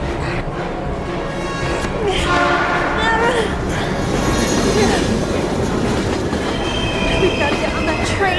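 A train rumbles past in a Heavy Rain scene, with loud, continuous rolling clatter, squealing wheels and a horn-like tone. Voices speak over the noise.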